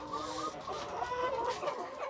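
Mardi chickens cluck in a coop, a close, busy layering of short clucks and calls over a soft background.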